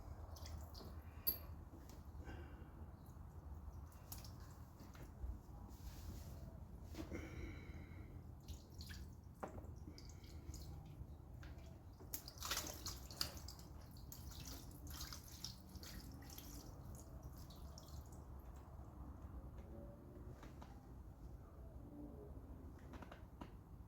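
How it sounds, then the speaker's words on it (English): Water drips slowly and irregularly from the air suspension of a 1994 Harley-Davidson Softail Heritage, faint scattered drops and small ticks in a quiet space with no talking. "Now this water is going to drip out now"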